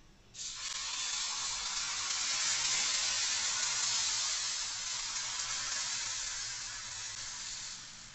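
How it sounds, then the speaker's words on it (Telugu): Dosa batter hits a hot pan and sizzles steadily, a loud broad hiss that swells quickly and holds for several seconds before slowly easing, with no talk over it. "పెనం వేడెక్కింది, ఇప్పుడు దోశ పోసుకుందాం."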